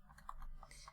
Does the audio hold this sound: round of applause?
no